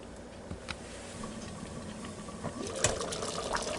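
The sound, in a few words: goulash simmering in covered 10-inch fry pan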